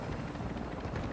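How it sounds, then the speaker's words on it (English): A helicopter in the video game Warzone 2.0 gives a steady rotor thrum with rapid low pulsing, fairly loud and continuous through a brief moment with no talk. "What, the helicopter?"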